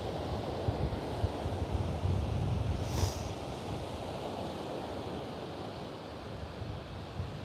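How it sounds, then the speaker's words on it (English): Wind and surf on a Melbourne beach where people are kitesurfing. A steady, loud roar of wind buffeting the microphone runs over the crashing waves throughout, with no talk. "It's a bit of wind, bro."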